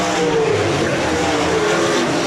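Sprint cars in a 360 A main race side by side at Rapid Speedway, their engines a loud, steady, continuous roar close by with no break.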